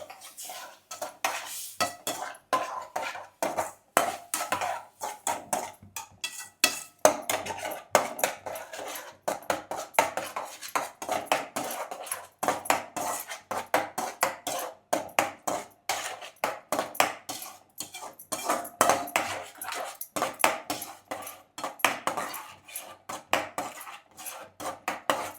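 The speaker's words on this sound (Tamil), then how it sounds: "கொஞ்சம் கொஞ்சமாக சேர்த்துக்கோங்க, கட்டி விழாமல் முடிஞ்ச அளவுக்கு கிண்டுங்க" A ladle scrapes and clatters against a metal pan as milk is worked into roasted rava for kesari, with steady, busy clinks and knocks close up for the whole stretch, and no talking.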